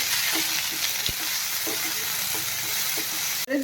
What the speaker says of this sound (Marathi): परत एकदा परतून घेत आहे